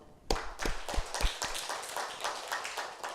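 A church congregation claps during a sermon in a Korean Presbyterian church, a loud burst of hand claps starting suddenly and continuing as a rapid, uneven patter with no voices.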